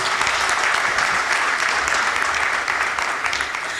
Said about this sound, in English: A round of applause for Professor Erastus.